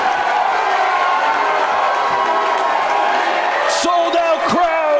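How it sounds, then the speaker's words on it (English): A sold-out crowd at a Hollywood wrestling show roars loudly and steadily, with whoops and yells rising near the end under excited commentary. "Sold out crowd in Hollywood. As loud as it gets in this place, the roof's blown off."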